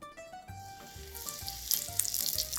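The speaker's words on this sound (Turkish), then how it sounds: "Ayçiçek yağıyla kızartacağım." Chicken köfte coated in kadayıf pastry sizzles in hot sunflower oil, a steady close crackle that thickens and grows louder, with faint tonal sounds in the background and no one talking.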